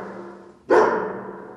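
A dog lets out a single sharp bark partway through, its tail trailing off over low background hum.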